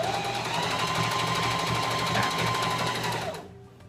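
A sewing machine stitching hijab fabric, a rapid, even mechanical chatter running steadily up close before slowing and stopping.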